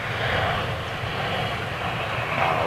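Freebird Airlines airliner on approach to land at Manchester Airport, a steady broadband jet roar held at constant loudness throughout, fairly close and with no talk over it.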